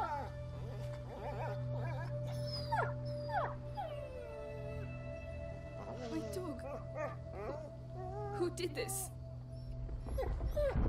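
A dog in the video game A Plague Tale: Innocence whimpers and howls with rising and falling cries and yips, heard alongside a low steady drone while a person shouts over it.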